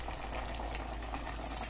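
Cooking oil poured into a pot while making Nigerian egusi soup, a quiet, steady liquid sizzle and bubbling heard close by with no talking.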